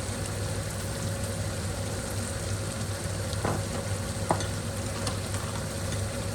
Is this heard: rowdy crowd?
no